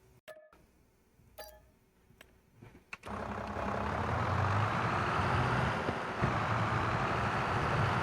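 A tractor engine in the Farming Simulator video game starts up after a few short clicks, then settles into a loud, steady, broadband diesel rumble that carries on unbroken for several seconds.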